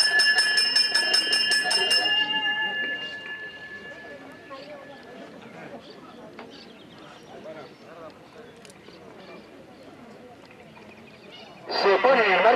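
A bell rings at a harness trotting race track in Argentina before the start of a race, a bright repeated metallic clang for the first couple of seconds, then fading under a crowd murmur and an announcer's voice.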